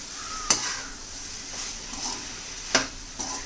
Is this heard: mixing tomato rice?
yes